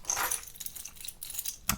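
A cluttered everyday-carry keychain jangles close by, a few bright metallic shakes and clinks scattered through a short moment, ending with a sharper rattle.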